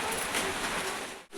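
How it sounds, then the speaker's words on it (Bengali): Light drizzle in the morning makes a soft, even hiss for a moment before breaking off abruptly. "সকাল সকাল বৃষ্টি শুরু, আর এমন বৃষ্টি না এদিক না ওদিক, ঝিরি ঝিরি ঝিরি ঝিরি দিনভর পড়তেই থাকে।"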